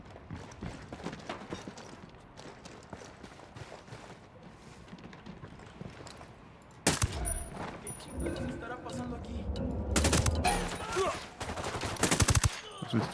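Gunfire in Ghost Recon Wildlands, loud bursts and sharp reports erupting midway and again near the end, mixed with game sounds and a voice talking.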